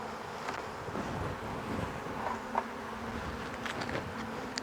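Honey bees buzz around an open beehive that has been calmed with smoke, a steady, faint, close swarm drone with some wind noise over the microphone.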